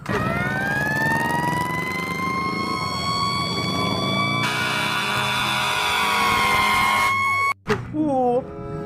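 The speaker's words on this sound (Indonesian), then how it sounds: "Di sini ada mobil pemadam kebakaran." A loud fire truck siren wails in long rising and falling sweeps, close and continuous, before cutting off abruptly near the end with a brief mechanical clatter.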